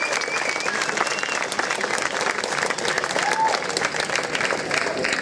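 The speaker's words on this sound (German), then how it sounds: "Und dafür bitte ich um einen kräftigen Applaus" A crowd at a cannabis parade rally in Munich gives loud, sustained applause, a thick patter of many hands with scattered voices mixed in.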